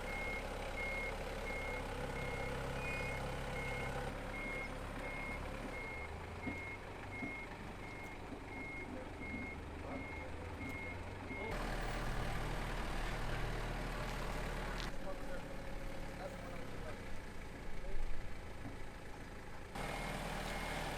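A truck reverses with a steady, evenly spaced electronic backup beep over the low rumble of its idling engine, continuous and fairly close outdoors during delivery of a large CNC machine, with no talk.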